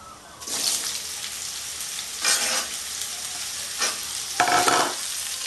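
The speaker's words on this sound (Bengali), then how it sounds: "আমটা দিয়ে আমি তেলে একটু ভাজবো" Raw mango fries in oil with mustard seeds, a close steady sizzle marked by several louder bursts of stirring and sputtering, with no talking.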